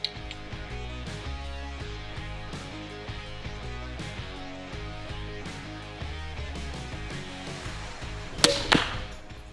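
Over steady background music, an arrow fitted with a Bloodhound XTN tracking nock is shot, a single sharp, loud snap and whoosh near the end.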